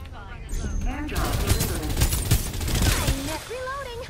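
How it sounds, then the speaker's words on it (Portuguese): Gunfire in the Farlight 84 battle royale game, including sniper rifle fire: a dense run of sharp shot bursts fills the whole stretch, mixed with game sounds and excited talk over the top. "eu dei um tiro de sniper nele"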